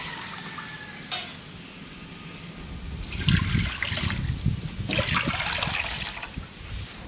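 Water pours from a vessel into rice in a pot for Kozhikode dum biryani, heard as two splashing, gushing spells over a low kitchen background.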